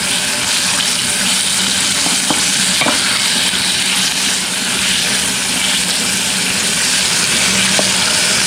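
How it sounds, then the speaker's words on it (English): Hot oil sizzling and popping steadily in a pan during frying in a village kitchen in Kenya, a continuous loud hiss with occasional sharp spatters, close up and without speech. "See how the oil was popping out, jumping on my skin here"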